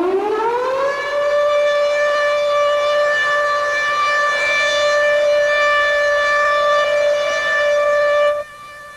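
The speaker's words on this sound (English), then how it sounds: "I've heard a lot of sirens in my day, and I must say, yours is the very best." A civil defense siren winds up from low to a loud, sustained, harmonically rich wail that holds steady for several seconds, then cuts off abruptly.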